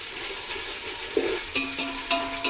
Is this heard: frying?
yes